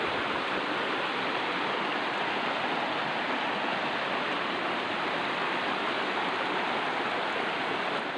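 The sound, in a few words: river water flowing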